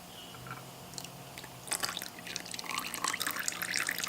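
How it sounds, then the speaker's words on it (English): Engine oil trickles and drips out of the drain hole of a Suzuki DR-Z400S motorcycle, a thin liquid patter that thickens into a steadier, louder pour partway through. "you want to release the oil out of here first, because it drains all the oil out of the oil filter"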